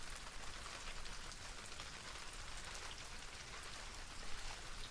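Rain patters steadily on a beach during wind and high tide, a faint, even wash of drops with no voices.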